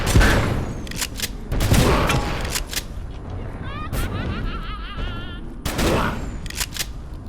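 Shotgun blasts in the video game Abiotic Factor, a few loud, sharp booms spaced a couple of seconds apart, with a brief warbling tone between them.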